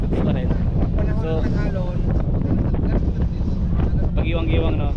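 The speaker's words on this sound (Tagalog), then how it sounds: "ngayon malakas yung hangin" Strong wind buffets the microphone in loud, rumbling gusts, with voices talking over the roar.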